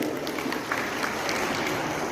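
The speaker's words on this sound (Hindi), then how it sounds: "तालियां जरूर बजाइएगा" A crowd at a government block day event in Hiranagar applauds in a steady, continuous wash of clapping, moderately loud and even throughout.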